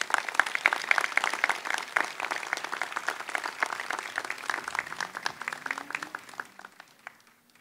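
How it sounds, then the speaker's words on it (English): Graduates and guests at a master's program commencement clap for a speaker, a crisp, busy patter of many hands that gradually thins toward the end. "Please join me in a round of applause for Jean."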